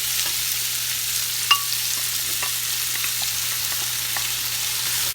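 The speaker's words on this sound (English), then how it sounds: "So you give it a good stir." Meat and onions frying in a pot while being stirred, a steady close sizzle with scraping spoon strokes and one sharp clink, no talking.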